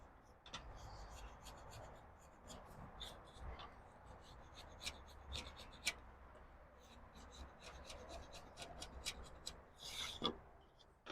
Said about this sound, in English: we'll just chisel out these extra little tracks here